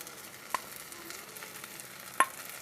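Spices, including turmeric, coriander and cumin powder, stirred into a prawn and potato dish in a pan, with a soft continuous sizzle and two brief scraping knocks of the spoon.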